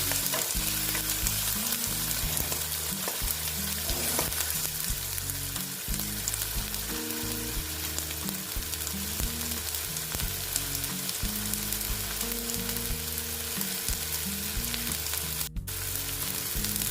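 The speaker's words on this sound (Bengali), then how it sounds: "এখন এখানে দিয়ে দিচ্ছি অল্প টমেটো কুচি" Chopped tomato fries with tilapia in a pan, a loud continuous sizzle and hiss lasting throughout, with a faint low hum underneath and no talking.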